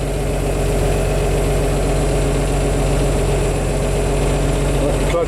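A 1981 International cab-over truck idling on its first start in years, its engine a steady, loud, low diesel rumble with constant vibration and no break throughout.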